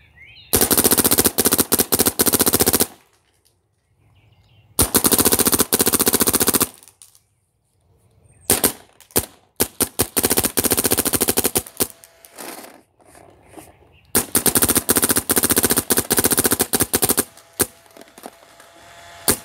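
A Dangerous Power G4 paintball marker fires loud, rapid bursts of shots, four long strings of fire separated by brief pauses, close and alone.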